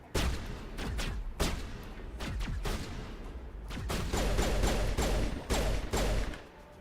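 Rapid pistol shots from Mass Effect crack out in a dense, uneven string of sharp reports, near and loud, with no talking.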